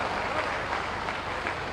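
Steady, dense applause from an audience at a public development-project inauguration event in Azamgarh, India, a continuous wash of clapping that stays even throughout with no voices standing out.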